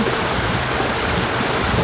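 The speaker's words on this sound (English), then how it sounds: "on the exact opposite side of where we were is this water sluice that they put in over here" Water in a stream channelled through a sluice at Silver Dollar City rushes in a steady, loud, close broadband wash with no pauses and no voices.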